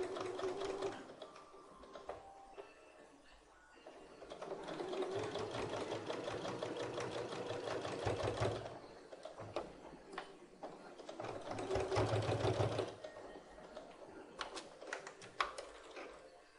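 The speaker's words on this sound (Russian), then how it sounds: "И медленно строчим, заканчивая работу." A sewing machine stitches a skirt waistband slowly, a steady rapid mechanical chatter running in stretches with brief pauses and changes in speed, close and moderately quiet.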